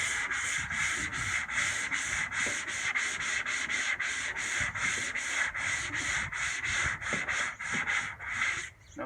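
Rhythmic scratchy strokes of hand sanding the top of a surface, quick back-and-forth rubs repeating evenly, close and fairly loud.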